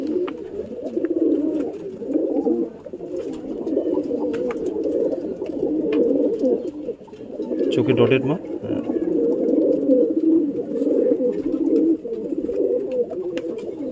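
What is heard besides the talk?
young domestic pigeon cooing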